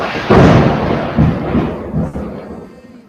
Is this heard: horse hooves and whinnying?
no